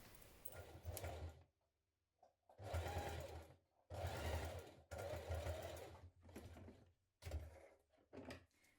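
Sewing machine stitching teddy bear ear pieces in place, several quiet bursts of rapid motor-driven stitching separated by short pauses, close and faint, no voices.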